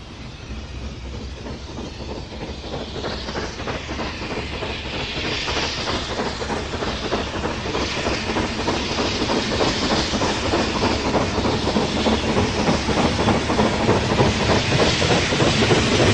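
An LMS class 7F 2-8-0 steam freight locomotive, number 53809, built for the Somerset and Dorset Railway with a larger-diameter boiler, rolls past with a steady rhythmic clatter and a hiss that build gradually over sixteen seconds, with no one talking.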